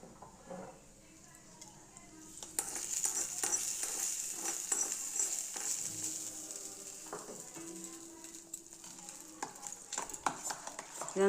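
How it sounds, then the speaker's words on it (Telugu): A spoon stirs hot tempering into curd rice, with soft scraping and mixing against the vessel alongside a light sizzle and occasional clinks of utensils, fairly close and steady for most of the stretch. "మనం పొయ్యి మీద పెట్టుకున్న తాలింపుల్ని వైట్ రైస్లో వేసుకోవాలి."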